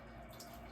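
Water drips and trickles from a towel wrung out by hand over a sink, a brief, faint, close wet patter with no talking.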